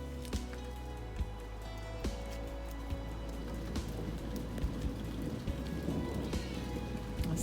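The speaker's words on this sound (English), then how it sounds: "It's just starting to rain." Light rain begins falling in a UK garden, a soft continuous patter with scattered drops tapping on surfaces, faint and steady throughout with no talking.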